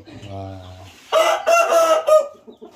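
A rooster, father of the flock, crows loudly and close in one long drawn-out call with a rising opening and stuttering end, after some softer clucking and a low voice in the background.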